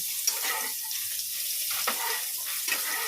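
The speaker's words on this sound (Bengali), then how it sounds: "পটলকে লাল করে ভাজবো লাল লাল করে ভেজে নিই" Pointed gourd (potol) frying in a pan, a steady broad sizzle running throughout with a few brief stirring scrapes, close and moderately loud with no talking.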